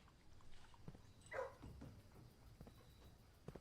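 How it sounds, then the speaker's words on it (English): A dog in a video game lets out one brief, faint bark-like yelp over a quiet background murmur of game sound. "That's a dog."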